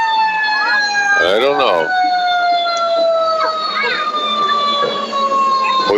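Fire truck sirens in a 2018 Ocala Christmas parade drone in a steady high wail with a rising yelp layered over it, loud and continuous, while a person briefly speaks nearby.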